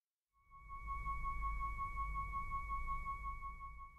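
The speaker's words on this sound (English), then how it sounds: "The device emits a musical tone with pitch that changes with light intensity." A LightSound device emits a steady electronic tone whose pitch follows light intensity, holding a clear pair of sustained pitches for several seconds over a low background rumble, with no speech.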